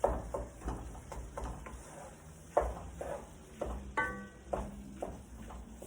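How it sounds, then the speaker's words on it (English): Ground beef browns in a pan for dirty rice, a low sizzle broken by repeated stirring scrapes and utensil taps at an uneven rhythm, with a brief tonal clink near the middle. "So I do not cook the beef completely. I let it brown off"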